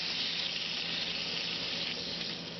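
Chicken cooking in a skillet gives a steady, dense sizzle, a continuous hissing crackle held evenly throughout at moderate level, with no talk.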